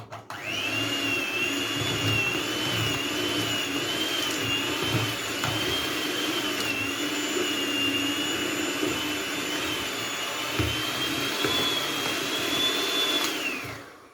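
Electric hand mixer whirring continuously as it beats butter in a bowl for a walnut Absheron cake, a steady high motor whine with slight pitch wobble, loud and close, nothing else heard.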